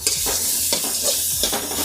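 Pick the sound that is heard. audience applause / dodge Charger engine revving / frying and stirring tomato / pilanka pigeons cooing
frying and stirring tomato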